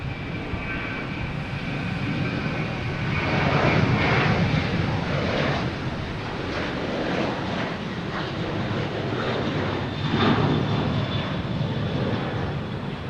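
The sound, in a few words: Southwest Boeing 737 taking off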